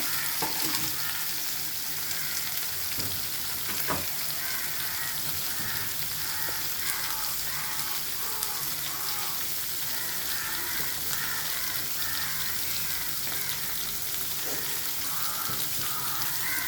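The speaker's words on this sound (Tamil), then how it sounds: "மூணு பெரிய வெங்காயம் நீல வாக்கில் அரிஞ்சு வச்சுருக்கேன், அதை போட்டுக்கலாம்." Three large onions, sliced lengthwise, fry in a pan with a loud, continuous sizzle and crackle and brief stirring scrapes, with no talking over it.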